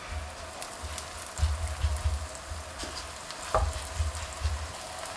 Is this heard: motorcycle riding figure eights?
no